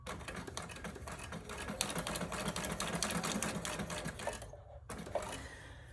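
A sewing machine runs a straight stitch through paper, a steady fast mechanical rattle close up that continues for several seconds, breaks off briefly, then resumes.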